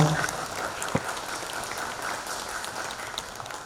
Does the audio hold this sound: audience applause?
yes